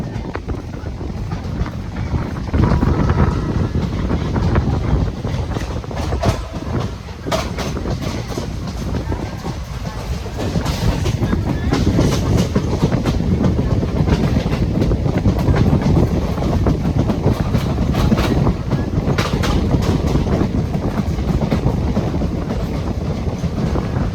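The Guruvayur-Madurai Express runs along a railway line in Kerala, heard from on board as a loud, continuous rumble with rhythmic clickety-clack of the wheels and wind buffeting the microphone.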